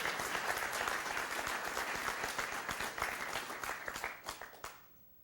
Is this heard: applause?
yes